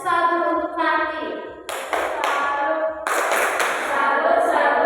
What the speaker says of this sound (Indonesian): Kita tepuk salut untuk Fandi